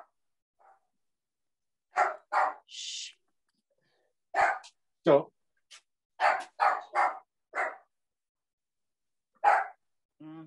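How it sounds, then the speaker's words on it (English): A dog barks in a string of sharp, fairly close barks, some in quick pairs, separated by quiet gaps, with brief human voice sounds mixed in. "Damn dog."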